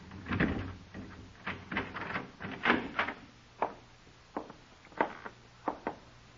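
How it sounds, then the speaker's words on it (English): Keys rattle in a lock and a door is worked open in an old radio drama, a run of close, sharp clicks and knocks spread across several seconds with quiet gaps between them and no talk. "Here, open the door."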